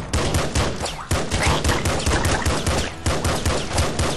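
Rapid gunfire from the Nuclear Throne video game, each shot firing two bullets at once, comes as dense, loud, overlapping bursts that keep up almost without a break.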